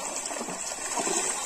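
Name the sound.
waste water flowing to trees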